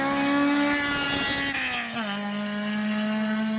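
A loud Honda S2000 sports car on a racetrack in Japan, its engine roaring with a strong, rising then settling tone, close and sustained without speech.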